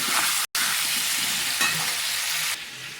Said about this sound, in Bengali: হলুদ গুঁড়ো আর নুন দিয়ে আলুটা ভালো করে ভেজে নেব।